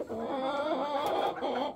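Hens in a coop cluck and murmur continuously, close and moderately loud, a dense overlapping chatter of several birds with no voices.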